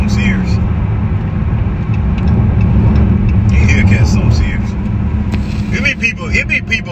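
A Dodge Charger Hellcat widebody driving fast, heard from inside as a steady, loud low engine and road roar that runs without a break, with short higher noises over it.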